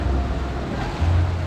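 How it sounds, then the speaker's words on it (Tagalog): Strong ocean surf in Camarines Sur churns and rumbles in a continuous low wash, loud and close with wind buffeting the microphone, swelling briefly toward the end. "Malakas din ang alon, no?"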